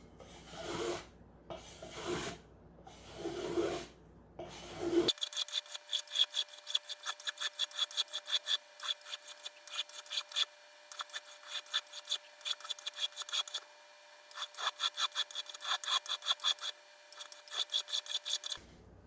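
A cedar Native American style flute from a kit is shaped by hand with a series of short, rhythmic rasping strokes, close and crisp, after a few slower, heavier scrapes at the start.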